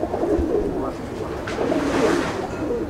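Chennai breed pigeons coo steadily in a loft in Andul, Howrah, a dense low murmur of overlapping calls from several birds close by, with soft rustling mixed in.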